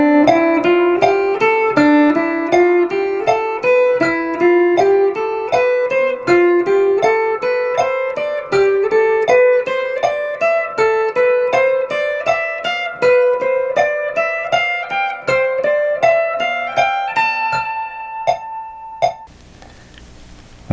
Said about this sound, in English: So we're going to drill our 6-note pattern all the way up the neck as 8th notes